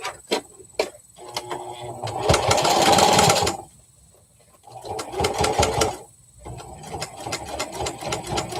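A home sewing machine runs in three separate bursts with short pauses between, close and fairly loud, the motor whirring while the needle fails to stitch during a sew-along session.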